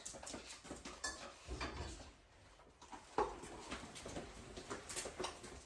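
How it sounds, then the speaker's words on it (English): Kitchen bowls and dishes clatter and clink while another bowl is pulled out, with soft knocks and rummaging throughout, a louder clunk near the middle, and a dog faintly present. "I'm going to grab another bowl."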